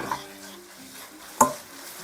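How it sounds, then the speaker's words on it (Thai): A spatula scrapes and stirs noodles in a hot pan with soy sauce and oyster sauce, a faint sizzle under one sharp metallic clank near the end, close and alone. "เอาพัดให้เข้าเครื่องดีครับ"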